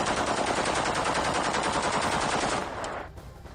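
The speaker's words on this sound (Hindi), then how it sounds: "कैसे सरेआम ये फायरिंग करते हुए नजर आ रहे हैं" Rebels firing guns inside the Syrian presidential palace, a loud, sustained burst of rapid automatic fire rattling steadily for nearly three seconds before tapering off into quieter noise.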